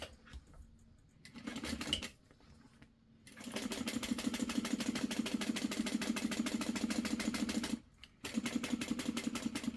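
A sewing machine stitches a glitter shaker closed in short bursts of rapid, even mechanical chatter separated by brief pauses, close and clear with no talking.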